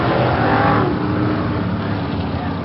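Modified race cars at Merrittville Speedway roar loud and close, one engine note sweeping up and then easing as cars come around, with a commentator's voice partly under the engine noise.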